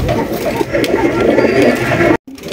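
Afsan Baga grizzle pigeons coo in a steady, close murmuring drone that runs almost without a break and cuts out briefly just before the end.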